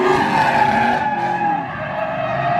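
A Trans Am drifting, its tires giving a loud, sustained squeal and skid as the car slides, with engine noise underneath and no voices.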